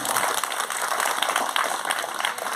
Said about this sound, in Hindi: संघर्षी चाय वाला के लिए जोरदार तालियां होना चाहिए